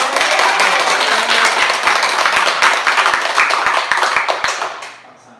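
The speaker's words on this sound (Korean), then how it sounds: "이렇게 열렬한 박수로 저를 맞이해 주셔서 고맙습니다" A church congregation clapping hands together in unison, loud, rapid and rhythmic, filling the hall for about five seconds before fading out at the end.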